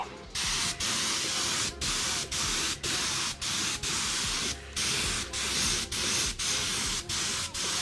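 Clear lacquer sprayed in repeated short bursts onto a heated car steering wheel during renovation, each steady close hiss cut by brief pauses, with no talking.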